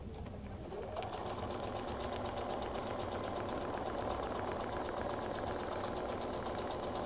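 A QuiltMotion X computerized quilting machine stitching, its rapid steady mechanical chatter running loud and continuous throughout with a rising whir as it starts up.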